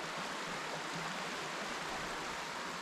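A river runs beside a woodland hiking path in the Loxley Valley near Sheffield, giving a steady, even rush of flowing water with no talk over it.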